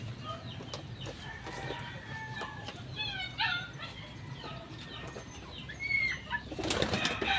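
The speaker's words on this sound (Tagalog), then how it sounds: "Si German, lamutak ng pakpak" Pigeon wings flapping inside a coop among other fowl, soft feathery flutters heard amid chirps, clucks and bird calls, with a louder burst of flapping near the end.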